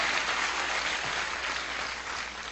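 A crowd at a gathering welcoming new professionals claps together in sustained applause, a steady, moderately loud wash of hands that eases slightly toward the end.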